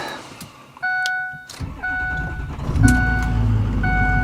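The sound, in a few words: Ford Super Duty truck being pulled into garage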